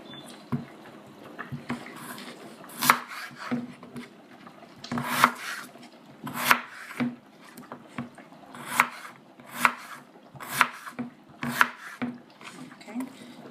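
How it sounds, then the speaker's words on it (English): Washed potatoes are diced on a cutting board, each knife stroke landing as a distinct thud. The chops come in loose, uneven bursts at close range, and a voice talks faintly underneath. "Just dicing them up in no"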